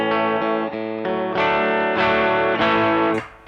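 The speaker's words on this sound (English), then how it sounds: "It's huge range distortion just with the volume." Electric guitar on the back pickup through a TC Electronic Nova Drive distortion pedal, volume rolled off for a cleaner, lighter drive: a few sustained, ringing chords struck in turn, loud and close with no talking.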